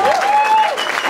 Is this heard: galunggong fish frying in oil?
no